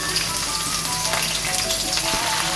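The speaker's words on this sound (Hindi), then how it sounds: "कुकिंग ऑयल गर्म हो चुका है। इसमें हम लहसुन अदरक की पेस्ट डालेंगे।" Garlic ginger paste hitting hot cooking oil in a karahi for a Lahori-style balti chicken, a loud, dense, close crackling sizzle that fills the whole moment without any voices.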